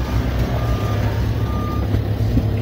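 Truck reversing alarm beeping in a steady repeating pattern against a loud, constant low engine rumble, close by, with no talk.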